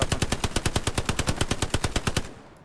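Rapid machine-gun fire in the World War II shooter game Hell Let Loose, a fast, evenly spaced burst of about twenty loud shots lasting over two seconds before cutting off.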